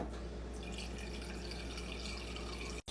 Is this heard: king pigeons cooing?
no